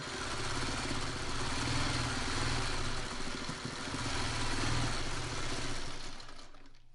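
A sewing machine runs steadily, stitching white-edged quilt four-patch blocks. It gives a continuous, even mechanical whir and clatter, close but fairly quiet, and slows and trails off at the very end.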